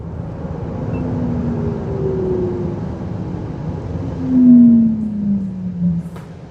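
A Mahindra BE6 electric car brakes hard from 150 km/h, a steady rush of road and wind noise with a thin motor whine sliding down in pitch as it slows, loud and continuous, with no talking.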